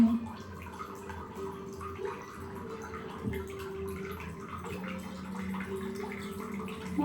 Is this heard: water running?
yes